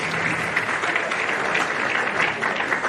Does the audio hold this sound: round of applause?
yes